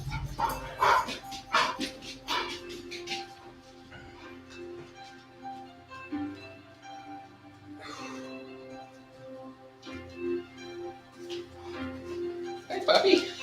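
A puppy barks and yips in short bursts during a home strength workout, the barks loud and close. They come in clusters near the start and end, with a few softer whimpers in between.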